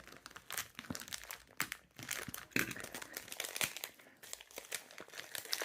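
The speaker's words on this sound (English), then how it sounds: "Let's see if I can open this bag." Plastic crinkles and crackles continuously up close as a bag is handled and pulled open, quiet and steady throughout.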